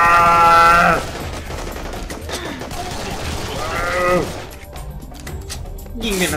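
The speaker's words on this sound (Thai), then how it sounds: "ยิงเป็นประทัดเลย" Weapons fire rapidly in the first-person shooter Serious Sam 3 BFE, with crackling bursts and harsh tonal game effects overlapping, while a voice talks over the action.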